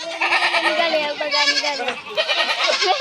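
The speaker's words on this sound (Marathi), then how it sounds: "काय बकऱ्याचा आवाज येतोय" Several village goats bleat loudly and overlap as a flock moves out through a doorway. A person speaks briefly over the wavering calls, which continue throughout.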